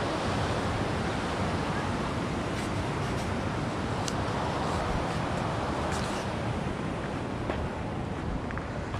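McGowan Falls waterfall produces a steady, broad roar of rushing water, constant and fairly close, with no break in the wash of noise for the whole stretch.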